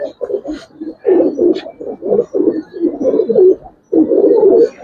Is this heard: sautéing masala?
no